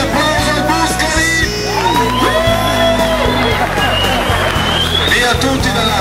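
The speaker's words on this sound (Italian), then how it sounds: "facciamo un applauso al Buscari!" Outdoor festival crowd at an Italian village egg-throwing event, cheering, whooping and shouting over loud music and a nearby announcer, the noise continuous and busy throughout.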